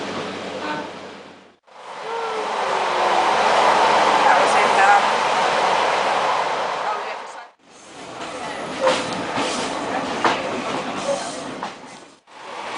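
A Great Western Railway train pulls out of Exeter St David's toward Barnstaple, heard as a steady broad rumble and hiss of running rail noise from on board, split by two brief quiet gaps.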